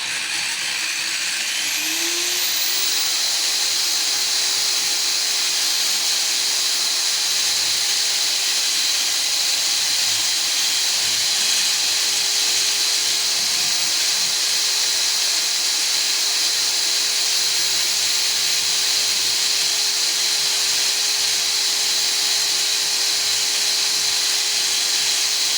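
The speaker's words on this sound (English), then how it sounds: "I can actually switch to the bigger drill too after I've made my hole all the way through" A larger drill bores a hole wider through wall tile for mirror anchors, giving a steady, loud high-pitched whine and hiss that spins up at the start and holds without a break.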